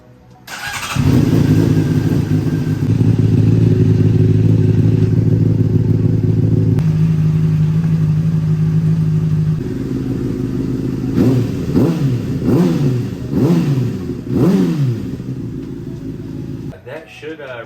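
A wrecked, long-abandoned Honda CBR600RR motorcycle cranks and fires up, settling into a loud, steady idle before a string of quick throttle blips rev the engine up and down, heard close by.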